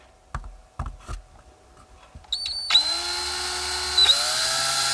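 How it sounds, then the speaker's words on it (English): A few sharp clicks and taps come first, then a power drill spins up, boring a hole for a Wyze Cam V2 WiFi antenna extension. Its whine holds steady, then shifts pitch partway through, close and loud. "drill slowly and carefully"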